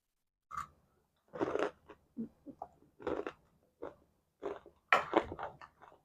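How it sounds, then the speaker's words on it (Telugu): Crunchy fried sweet corn pakodi being chewed close up, with a series of sharp, crisp bites and crunches in irregular bursts separated by short silences. "సౌండ్ చూసారు ఎలా వస్తుందో కరకర కరకరలాడుతూ"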